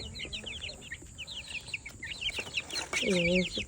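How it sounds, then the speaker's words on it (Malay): Several chickens cluck and chirp in short bursts close by, with a louder squawk near the end and faint voices in the background. "Ayam besar ni. Ayam-ayam aku yang kecil ni."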